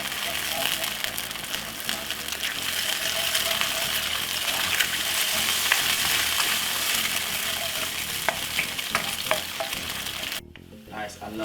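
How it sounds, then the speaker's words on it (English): Eggs beaten with milk frying in a hot pan, a loud steady close sizzle with occasional soft stirring scrapes throughout, cutting off abruptly near the end. "Give it a stir."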